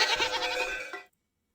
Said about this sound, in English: The goat's gone rogue.